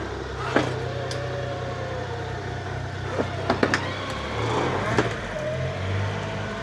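A farm vehicle drives during silage making, its engine giving a steady low rumble close by. Occasional clunks and knocks cut through, and the engine swells slightly near the end.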